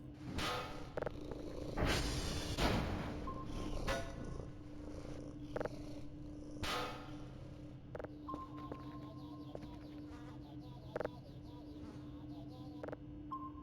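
Several cats purr in the video game Voices of the Void, a soft continuous low rumbling hum close up, steady under faint background noise and occasional small clicks, with no talking.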